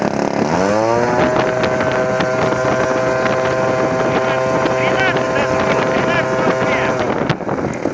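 A 2160 mm Yak-54 model airplane engine spins up on a static thrust test stand. Its loud, close whine climbs in pitch over the first second, then holds steady amid wind buffeting and some voices.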